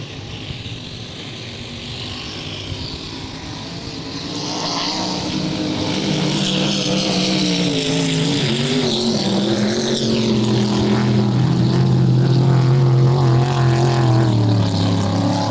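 A supercharged 7-liter Division 2 inboard racing boat roars across a lake during a race, the engine drone swelling louder as it nears and holding a strong, steady, wavering tone.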